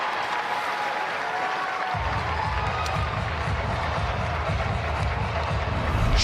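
A women's professional ice hockey arena crowd cheers and applauds after a goalie's save at a PWHL game, Montreal at New York, with sustained clapping and a roar that swells and holds steady, loud and distant-filling.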